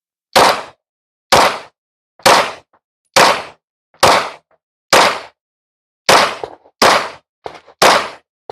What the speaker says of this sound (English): we're all going to shoot this one first